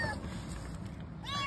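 A kitten trapped beneath a car mews repeatedly, with high wavering cries rising over a steady engine-like rumble and background noise.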